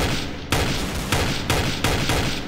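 Heavy gunshots in Counter-Strike: Source, about four loud evenly spaced blasts, each one ringing on before the next, with no talk over them.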